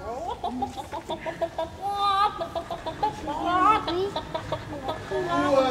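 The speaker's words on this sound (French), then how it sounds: "la poule glousse, pour rappeler ses petits" A hen clucks in short, rhythmic bursts interleaved with a voice, with soft farmyard fowl sounds mixed under the talk.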